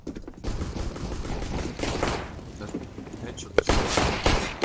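Dense, crackling gunfire in a tactical shooter, many overlapping shots in a busy fusillade with a few sharper close cracks, steady and loud throughout, with voices talking over it.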